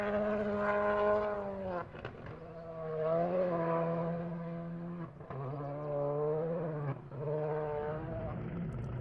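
A Volkswagen Polo rally car on a damp opening test stage, its engine note climbing and dropping through repeated gear changes with brief pauses between, sounding from a moderate distance with a wailing, buzzy tone.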